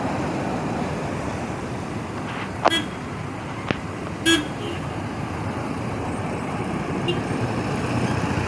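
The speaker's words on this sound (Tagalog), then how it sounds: "Ayan po, maraming sasakyan." Busy road traffic in Davao City, a steady roar of many passing vehicles with a few short horn toots rising briefly above the rumble.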